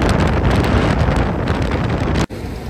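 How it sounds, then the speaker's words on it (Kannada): A private longtail boat runs across open sea toward Phi Phi Island, with heavy wind buffeting the microphone and a steady engine drone, loud and continuous, cut by one abrupt momentary drop near the end. "ಪ್ರೈವೇಟ್ ಲಾಂಗ್ ಬೋಟ್ ತಗೊಂಡಿದ್ವಿ ನಾವು."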